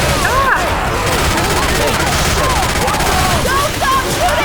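Dense gunfire in the zombie shooter game Left 4 Dead 2, loud and continuous bursts of shots and booms filling the whole stretch, with game voices talking over the shooting.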